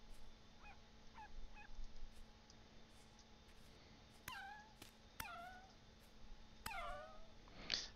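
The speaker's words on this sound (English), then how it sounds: "Nothing like starting a stream off by killing a puppy." An animal in the video game Vintage Story, a young wolf pup being killed: high whining yelps and descending cries, a few short squeaks first, then louder drawn-out whimpers, close and alone.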